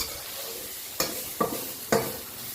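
Chili sizzling in a hot pan for a crocodile and holy basil stir-fry, a steady frying hiss broken by three sharp scrapes of stirring, close and fairly loud.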